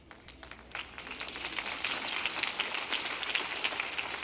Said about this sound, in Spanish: ¡Qué aplauso tan débil!